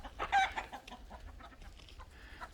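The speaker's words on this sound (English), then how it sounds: "one of the roosters is chasing one of the chickens" Chickens cluck and squawk in a brief flurry near a house yard as a rooster chases a hen, with softer clucking trailing off afterward.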